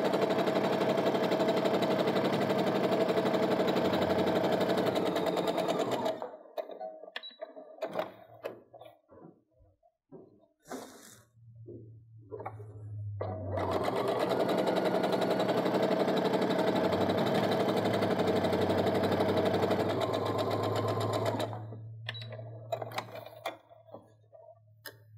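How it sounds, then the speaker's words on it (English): A sewing machine stitches down both sides of a quilt block in two loud, sustained runs of steady motor hum, broken by a quieter stretch of handling clicks and rustles between them. "So now we're going to sew down both sides."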